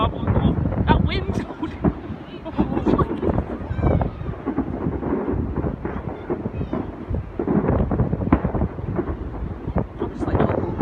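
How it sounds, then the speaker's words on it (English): Strong gusty wind roars outdoors on a cold night at a fireworks display, buffeting the microphone in a continuous loud rumble with deep thumping gusts. People talk faintly underneath. "Oh, that wind."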